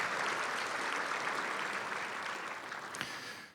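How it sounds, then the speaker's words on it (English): An education event audience applauds an honoured student, a broad sustained patter of many hands that holds steady and then tapers off toward the end. "Big applause for her."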